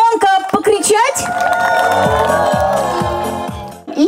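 A crowd at a village day festival cheers and whoops loudly, with children shouting and a sustained roar of voices that swells and then drops off near the end.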